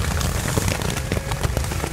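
Heavy rain pours outside a house in the El Montecito eco-neighborhood in Punilla, Córdoba, with a dense, loud hiss and irregular drips and taps close by as water leaks inside, without talking.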